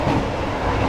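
Steady rumbling roar of the KA Sancaka passenger train in motion, heard from inside the dining car, a continuous low, loud rolling noise with no voices.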